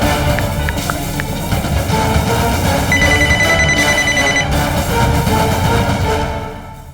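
A telephone rings out while a call is being placed, a loud, steady electronic ringing tone with bright repeated pulses that continues throughout and fades slightly at the end.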